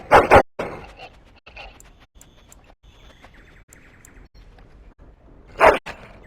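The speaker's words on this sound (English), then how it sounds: "That's for my dog." A dog barks in the fantasy role-playing game Dragon Age Origins, two sharp, loud bursts opening and closing a quieter stretch of faint background sound.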